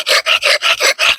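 An axe blade is scraped across a cinder block for sharpening, making six steady, close rasping strokes in an even back-and-forth rhythm, with no voices.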